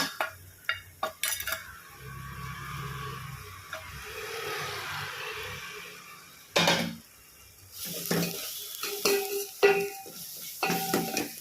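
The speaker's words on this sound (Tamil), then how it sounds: "அந்த மிளகாய் பொடியை போட்டுட்டு நல்லா வதக்கிடுவோம்." Chilli powder sautéing in a pan of oil for kara kulambu, a soft steady sizzle with scraping stirs and clinks of a utensil against the pan, louder clattering bursts in the second half.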